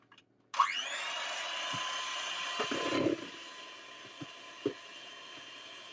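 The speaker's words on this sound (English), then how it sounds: "So we're going to whisk this up now, okay? So here's the egg whites" An electric mixer starts abruptly and whirs steadily at high speed, whisking egg whites for chocolate mousse in a bowl, with a few faint knocks against the bowl.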